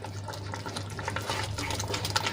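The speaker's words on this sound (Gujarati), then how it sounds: "હવે એમાં આપણે સૂજી એડ કરી લઈશું અને સરસ રીતે આપણે મિક્સ કરી લઈશું" Semolina is stirred into grated raw potatoes cooking in a pan, making soft, close scraping and mixing sounds over a faint sizzle and a low background hum.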